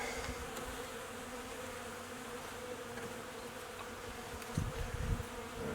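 Dense, steady buzzing of many honeybees at close range while a spring hive or nuc is opened for inspection, with a low rumble of handling thumps swelling near the end.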